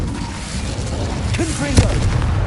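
The Incendio fire spell cast in Hogwarts Legacy, a short rumbling whoosh with a couple of crackling bursts and a sharp pop near the end, over low game ambience.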